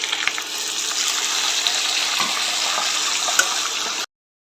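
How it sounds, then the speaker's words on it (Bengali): Water poured into a hot frying pan of fried ingredients for lentil bhuna khichuri, a loud steady rushing hiss lasting about four seconds, close up, then cut off abruptly with no talk. "এখন এখানে অ্যাড করব পানি।"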